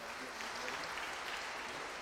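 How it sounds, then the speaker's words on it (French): A church congregation applauding young communicants at a solemn communion celebration, a short, steady wash of many hands clapping, distant and soft, with some speech in the room. "Applaudissez à nos jeunes."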